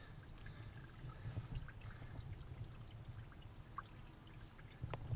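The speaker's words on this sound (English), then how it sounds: "I can hear water back in there." Water trickles faintly and steadily in the intake of a kilowatt microhydro turbine on a steep hillside. The flow is distant and soft, a continuous low pour with a few small drips.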